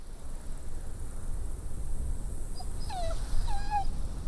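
A dog whimpers in The Walking Dead: The Final Season, two or three short rising-then-falling whines over a steady noisy ambient bed, moderately close but not loud.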